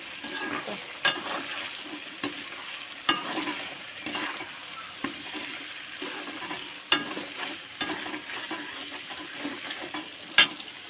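Biryani ingredients with added salt are sautéed in a pan under a steady sizzle, and a spoon scrapes and clacks against the pan in an uneven rhythm throughout at close range.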